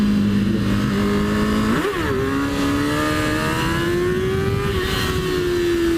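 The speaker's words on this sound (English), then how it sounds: "I want to do one dark wheelie." A motorcycle revs hard and loud up close for a dark wheelie on a street at night, its engine pitch dipping briefly then climbing and holding steady, with no voices.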